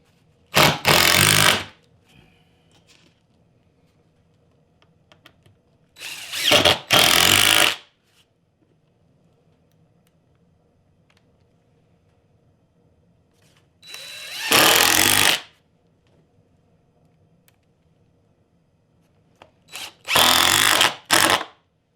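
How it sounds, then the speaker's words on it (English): A power drill drives four screws into stacked layers of a wooden snowshoe mold, each one a loud, close whir lasting one to two seconds, with long quiet gaps between them. "I'm probably going to put 4 screws just to hold these layers together."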